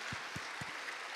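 A church congregation at a staff seminar applauds together, giving glory to God: steady, dense clapping that fills the hall, with a few low thumps near the start.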